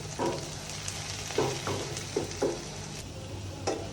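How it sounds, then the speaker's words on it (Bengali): A homemade snack fries in a pan, with a steady sizzle broken by repeated scraping stirs spaced every second or so. "এখন ভাইজে নেব।"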